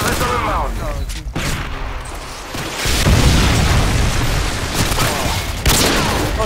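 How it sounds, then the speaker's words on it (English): Predator missile strike in a first-person shooter game, loud booming blasts with crackling bursts and rumbling debris, dense and close, with voices talking under the explosions. "Friendly Predator missile inbound."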